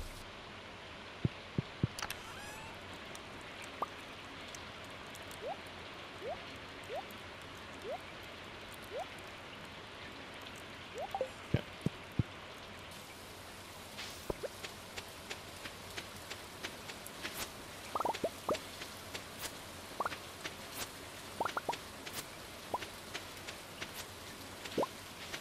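Rain falls in the video game Stardew Valley as a quiet, steady patter, with scattered drips and plops popping out irregularly throughout.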